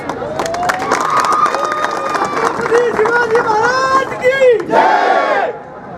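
A large crowd gathered for a Shiv Jayanti celebration meeting erupts in loud, rising chants and shouted cheers, many voices together close by, fading out at the end.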